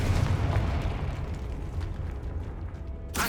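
A Confringo blasting spell explodes in Hogwarts Legacy, a loud, rumbling blast with a deep roar that sustains and slowly fades, then a sharp new burst right at the end.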